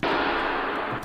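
A low, pitched-down cymbal wash swells as one sustained metallic roar lasting about a second, heavy and dark.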